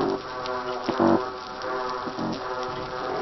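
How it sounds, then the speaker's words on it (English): An underwater marine chorus of fish calls forms a dense, continuous wash of overlapping grunts and knocks, with a louder burst of low pulsed calls around the one-second mark and further low pulses later. "these are the sounds of fish calls"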